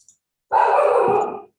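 A dog barks once in the background, a single loud, drawn-out bark that stands out against a quiet room.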